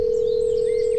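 A phone line gives a steady, unbroken dial tone, loud and close, before a call is placed, holding one pure pitch throughout with no voices over it.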